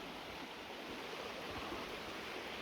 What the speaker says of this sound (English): You've got your water running down there.